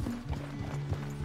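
Horse hooves clip-clopping in the Red Dead Redemption 2 video game: a few close, muffled hoofbeats at walking pace under a low steady hum and tonal background.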